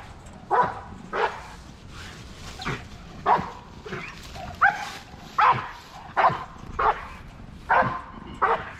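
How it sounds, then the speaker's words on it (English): A police dog barking while being agitated by a decoy during K9 patrol training. Roughly ten loud, close barks come at a steady, insistent rhythm. "let them see what it's like to hold a police dog while it's being agitated"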